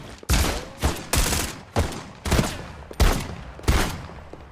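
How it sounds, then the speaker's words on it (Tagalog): Gunfire in a firefight in the video game Farlight 84: a series of about seven loud, evenly spaced shots with short booming tails, close and dominant, with no talk over them. "Nakipagbarilan na sa kampi natin."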